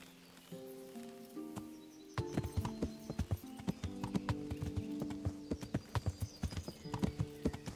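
Horse hooves clip-clop steadily in Kingdom Come: Deliverance, starting after a quiet lead-in with low tonal music, then a close, rhythmic run of sharp hoof strikes continuing to the end.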